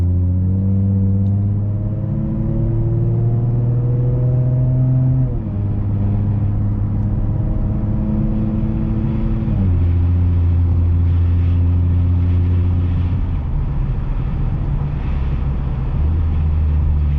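A 2014 Ford Mustang Premium with a 3.7-liter V6 and Roush exhaust drives past 94k miles. The engine drone rises steadily in pitch through each gear and then drops at clear shifts, loud and continuous with no talk.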